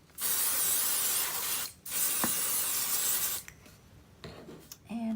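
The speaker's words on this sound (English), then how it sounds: "Actually spray this with some temporary adhesive." Temporary spray adhesive is misted from an aerosol can onto the back of fabric for embroidered potholders, two long steady hissing bursts close up, then a shorter spurt and some light handling noises.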